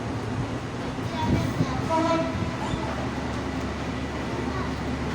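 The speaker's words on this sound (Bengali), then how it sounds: "এই যে ট্রেন যাইতেছে, মাদ্রাসায় দেখা যাচ্ছে ট্রেন যাচ্ছে।" A train passing through a railway station near a madrasa in northern Bangladesh rumbles steadily and broadly throughout, with a faint tonal horn-like whine in the middle, while someone talks over the noise.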